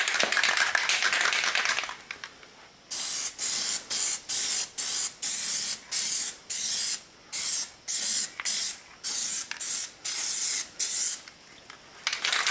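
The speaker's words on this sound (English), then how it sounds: "You can do it like I'm doing and just spray thick and get it all about the same" Plasti Dip rubber coating hissing from an aerosol spray can in about a dozen even, evenly spaced bursts, close and loud, with each spray separated by a short pause.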